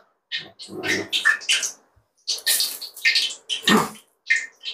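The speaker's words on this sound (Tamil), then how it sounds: "தண்ணி ஊத்தி பாப்போம் லைட்டா" Water splashes into a hot cooking pan in a home kitchen, giving bursts of hissing sizzle that start and stop several times across a few seconds.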